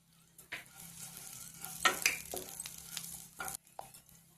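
Green chilies and cumin seeds frying in oil in a pan, giving a faint sizzle with a few scraping stirs and light utensil clinks, close by and fairly quiet, with no talking.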